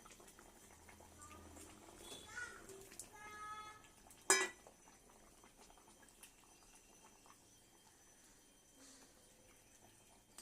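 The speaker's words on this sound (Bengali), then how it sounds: "ঝোলটা ফুটতে শুরু করেছে" Fish curry gravy with rita fish, potato and yogurt bubbling quietly in a pot, a soft, continuous simmer, with one sharp clatter of utensil against cookware partway through.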